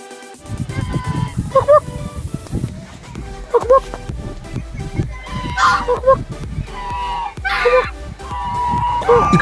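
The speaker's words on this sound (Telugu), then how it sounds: "ఇక్కడ కొన్ని రకాల బాతులు ఉన్నాయి చూద్దాం." Several kinds of ducks in a park at Horsley Hills squawk and honk in repeated loud bursts, close by, while a person talks over them throughout.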